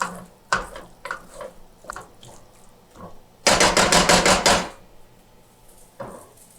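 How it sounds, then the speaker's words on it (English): Scrambled eggs are stirred in a pan during a large breakfast prep, with scattered scraping clicks and then a loud burst of fast rhythmic scraping and rattling against the pan. "Give our eggs another stir here to mix in any last remaining that's not quite all the way cooked"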